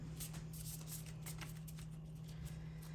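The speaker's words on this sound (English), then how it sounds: "This deck is also a little hard to shuffle because of the shape of it" A tarot card deck with an awkward shape is shuffled, giving a series of quick, soft riffling bursts that repeat in a loose rhythm, close and fairly quiet with no talking.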